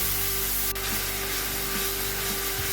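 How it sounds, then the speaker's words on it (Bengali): Ground onion paste fries in hot oil spiced with garam masala, giving a steady, even sizzle that hisses on without pause at close range, with a faint scrape of stirring. "তারপর দিয়ে দেব বেটে রাখা পেঁয়াজটা। পেঁয়াজটা এবার ভালোভাবে কষিয়ে নেব।"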